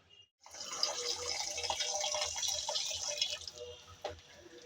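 Running tap water pours and splashes steadily over cut cabbage in a sink, close and fairly soft, then cuts off near the end.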